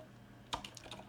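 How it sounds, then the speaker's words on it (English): Quiet, close keystrokes on a computer keyboard, a short burst of several quick taps in an irregular rhythm with no talking. "I'm gonna type in a paragraph"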